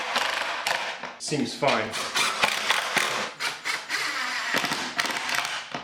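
Screws being power-driven into an acrylic sheet for a resin table mold, loud close bursts of drill whirring and crackling clicks, with a voice speaking briefly between them.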